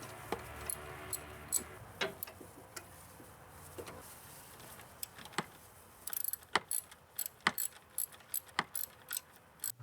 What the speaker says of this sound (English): I love the sound of a ratchet wrench.